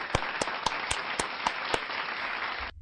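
Clapping for Max: seven sharp, evenly spaced hand claps ring out over a dense bed of crowd applause, which cuts off abruptly near the end.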